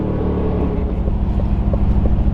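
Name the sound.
Aston Martin Vantage exhaust crackling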